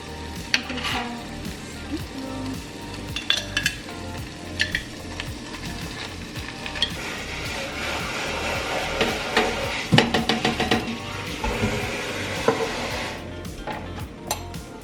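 Beef in tomato and basil sauce sizzles in a pan as it is stirred, a steady frying hiss broken by repeated clinks and scrapes of a utensil against the pan, close and moderately loud.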